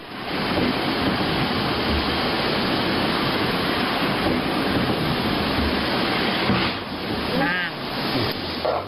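Heavy rain with wind during a thunderstorm, a dense continuous roar of downpour and gusts that stays loud throughout, with a brief change near the end.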